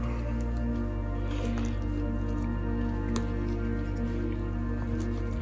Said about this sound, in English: Pull both those legs out.